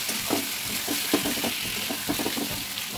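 Pointed gourd pieces are stirred with spices in a pan, a steady soft sizzle under scattered spoon scrapes and light knocks against the pan, close and unaccompanied.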